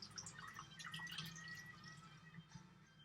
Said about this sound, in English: So I'm straining off the liquid.